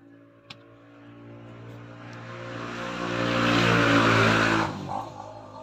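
A loud motor drones steadily and swells in volume midway before dropping off, with a sharp click near the start and a few small knocks after it cuts back.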